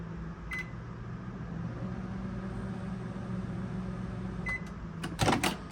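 Wolf microwave oven humming steadily after repair, a low continuous drone with a couple of beeps and a clunk of the door near the end.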